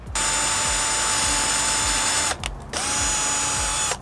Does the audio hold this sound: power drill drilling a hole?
yes